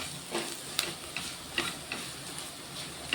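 Potatoes frying in a pan with green chillies and chili powder, stirred with a spoon: a soft continuous sizzle broken by sharp scraping strokes at a steady rhythm, close and with no talking.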